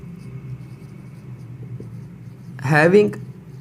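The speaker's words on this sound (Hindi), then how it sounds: "अब यहाँ पे मैं सेंटेंसेस लिख रहा हूँ" A marker writes sentences on a board during an English grammar lesson. A brief squeaky stroke near the end rises clearly above a quiet low hum.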